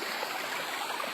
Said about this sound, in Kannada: ನೀರು ತುಂಬಾ ಸುರಿತಾ ಇದೆ